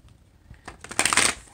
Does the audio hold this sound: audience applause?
no